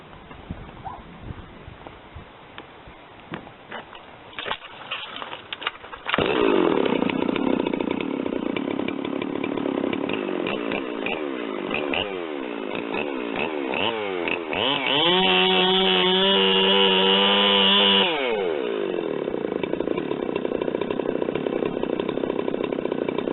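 A chainsaw with a very loose chain idles, then revs hard and bores into wood, its loud whine shifting pitch under load before easing off, no talking.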